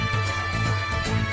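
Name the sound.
jaw harp (mouth harp) in a played song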